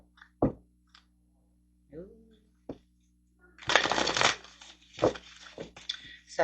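A deck of tarot cards being shuffled in a reading, with a few soft riffles and taps, then a longer burst of dense shuffling followed by several shorter shuffles, close and fairly quiet.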